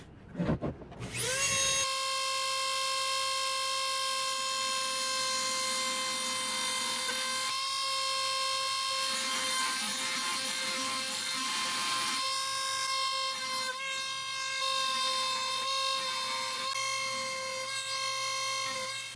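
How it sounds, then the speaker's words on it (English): A Dremel 4000 rotary tool fitted with a cup burr carving circles into wood whines at a steady high pitch for a long stretch, its tone dipping slightly under load as the burr bites and grinding rasps come and go. "I will be using my Dremel 4000 to use that instead of a drill"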